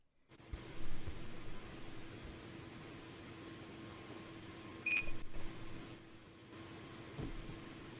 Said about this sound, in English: I do hear the fan.